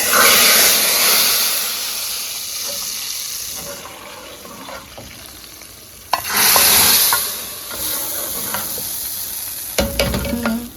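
Four garlic cloves hit two spoonfuls of hot ghee for a tadka, giving a loud, close sizzle that fades, then flares into fresh bursts of crackling and spattering.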